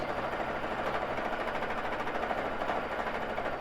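A Baby Lock Jazz II sewing machine doing free motion quilting on a frame runs at a steady, fast mechanical whir with a fine needle-driven buzz and no pauses, heard close and alone.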